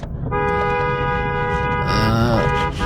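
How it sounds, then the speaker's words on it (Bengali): Car horns honk in city traffic on a drive through Dhaka. One long, steady toot is followed by a second, overlapping horn near the end, over a constant rumble of engines and road noise. "ঘন ঘন হর্ন দিয়ে পার হয়ে গেছি।"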